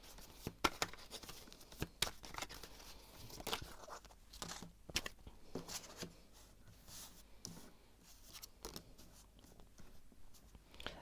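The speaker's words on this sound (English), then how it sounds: "I'm going to shuffle a little bit more" A deck of pick-a-card reading cards is shuffled in a series of soft, close riffling and rustling bursts with small papery snaps, quiet and alone.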